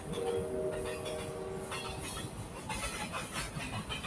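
A long train rumbles past at moderate distance, a steady low roar of rolling wagons with faint rhythmic clatter and some higher rail squeal, no voices.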